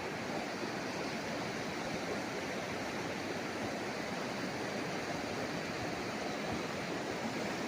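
A river flows beside a roadside farm in Majayjay, Laguna, making a continuous, even rush of water that stays steady and fairly close, with no voices over it.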